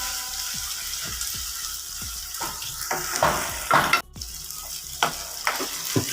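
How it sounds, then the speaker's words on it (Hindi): Chicken frying in a pan for shawarma: a steady close sizzle runs throughout, broken by repeated scraping stirs and a brief sharp clatter midway, with no talking. "देखिए माशाल्लाह बहुत ही अच्छी तरीके से ये फ्राई हो चुका है चिकन हमारा"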